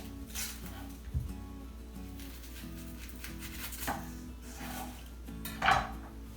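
A medium onion being chopped on a board at home: a few scattered, faint knife knocks and taps over a low background hum, with no voices.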